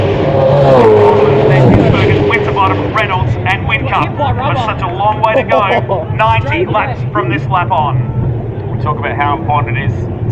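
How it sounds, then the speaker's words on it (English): V8 Supercars racing past in the Virgin Australia Supercars Championship, engines roaring loud and close, then rising and falling pitch sweeps as several cars go by under steady commentary. "As soon as these couple of cars go past."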